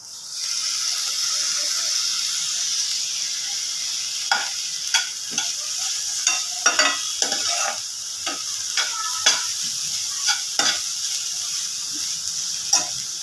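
Onion with crushed green chili, garlic and ginger sizzles steadily in hot oil, with frequent close scraping and stirring clacks of a spoon against the pan throughout.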